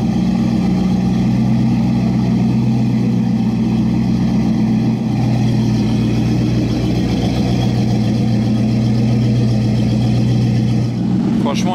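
A car with a W16 engine idles nearby with a deep, steady, continuous rumble lasting throughout, with a slight shift midway and faint voices over it.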